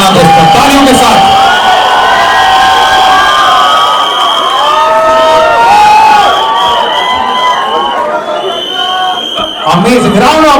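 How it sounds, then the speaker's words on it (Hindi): At a film promotional event, a large audience cheers, whoops and shouts loudly and continuously, with applause mixed into the roar throughout. "With a huge round of applause"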